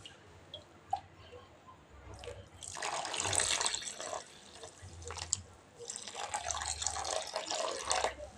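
Boiled milk pours into a pan while semolina laddus (rava undalu) are made at home, a liquid splashing and trickling in two long bursts with small drips between.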